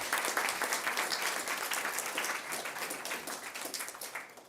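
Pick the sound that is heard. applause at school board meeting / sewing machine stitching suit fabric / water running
applause at school board meeting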